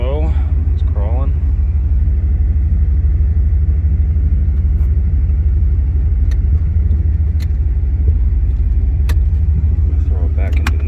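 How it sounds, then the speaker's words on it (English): A 1994 Jeep Grand Cherokee crawling slowly in four-wheel drive low, with a steady, loud low-pitched engine rumble and drivetrain drone throughout, with a few brief clicks and a person talking briefly at the start and end. "4-wheel drive low, it's crawling."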